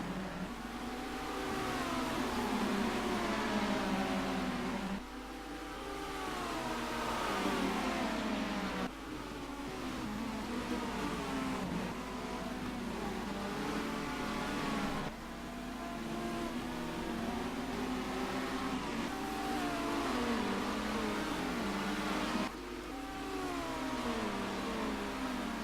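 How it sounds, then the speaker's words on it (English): Several race cars in a British Touring Car Championship sim racing broadcast, set on a London street circuit, accelerate and rev continuously, with engine pitch rising and falling through gear changes as the pack runs together at steady, loud level. "all cars spread out as they go down towards the Westminster corner"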